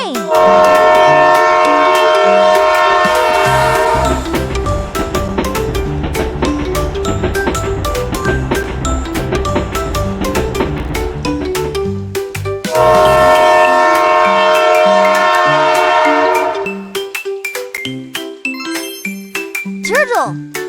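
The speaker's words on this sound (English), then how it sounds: "Let's take the train." Musical train sound effect from a children's animated zoo adventure, with a loud melodic horn-like tone and rail clatter running steadily for most of the stretch before a brief break and a tinkling end.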